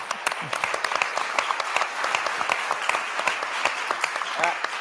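Applause from the audience at an institute launch event in New York, steady clapping from a moderate crowd with distinct individual claps standing out, under faint voices.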